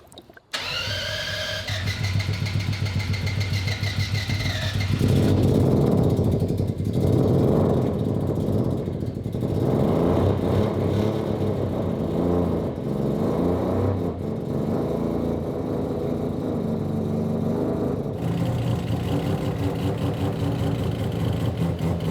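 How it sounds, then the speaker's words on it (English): A car engine is hot started: a short whirring crank, then the engine catches and settles into a loud, steady running drone close by, with no talk. "This is how you hot start this car."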